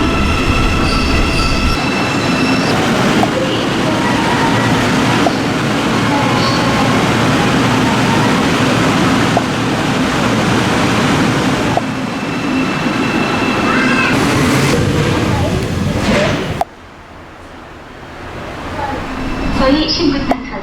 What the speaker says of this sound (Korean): The train for Sinsa is arriving.